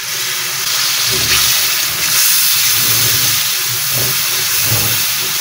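Water poured into a cooking pot over spices for a prawn curry, a steady hissing pour that runs for several seconds with gurgling bursts near the pot.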